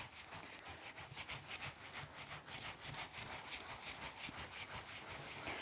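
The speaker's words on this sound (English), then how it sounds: "So what I'm doing is I'm rubbing, and I'm only rubbing onto the template." Hands rub wet, soapy wool felt against a template while shaping a 3D felted bowl, making a faint, steady series of quick, rhythmic swishing strokes close up.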